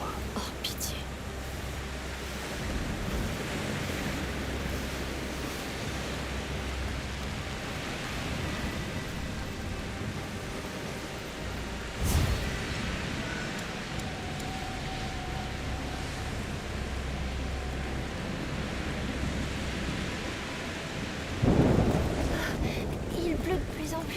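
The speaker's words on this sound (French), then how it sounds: "Il pleut de plus en plus fort. C'est rien, c'est juste un orage." A thunderstorm with heavy rain in A Plague Tale Requiem: steady broadband rain hiss throughout, with a couple of brief thunder bursts partway through and near the end.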